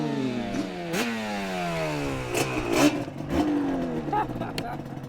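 A Yamaha TDR 250 two-stroke motorcycle engine revs up repeatedly, its buzzy, ringing pitch climbing in several sweeps and dropping between gear changes, close and loud.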